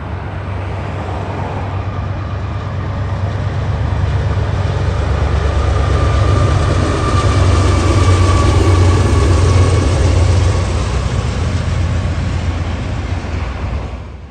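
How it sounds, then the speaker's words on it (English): A Norfolk Southern intermodal freight train rolls across the tall Saluda Trestle in Greenville, South Carolina, a loud, continuous rumble and rattle of wheels and cars that swells mid-pass and holds for the whole stretch. "The incline sends trestle-bound trains such as this here intermodal soaring overhead with elegance and ease."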